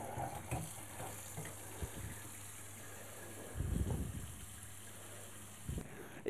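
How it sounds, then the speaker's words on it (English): Cooked pasta is rinsed under a cold running kitchen tap, a quiet, uneven splash and gush over a low hum, with a fuller surge of water in the middle and a few small clatters. "So we're just going to run it under the cold water."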